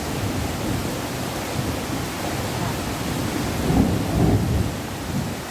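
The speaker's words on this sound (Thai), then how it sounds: "ฝนตกแรงจริงค่ะ" Heavy rain pours down steadily in a thunderstorm, a dense close hiss with low thunder rumbling beneath it and swelling briefly near the end, with no voices.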